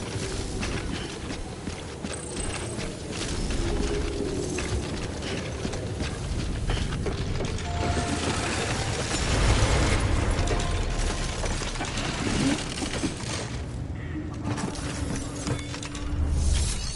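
Mechanical decontamination machinery for a suit in the game Death Stranding, a steady ratcheting, whirring and clanking run of gears lasting throughout, fairly loud and dense with no talk over it.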